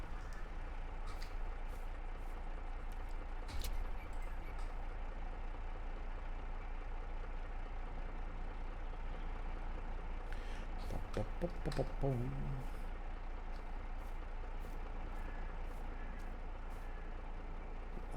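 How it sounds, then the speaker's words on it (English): A tractor in the Farming Simulator 22 video game idles and reverses with a steady low engine drone, a few mechanical clicks and hiss-like bursts, under a constant game-audio bed. "Reverse our tractor."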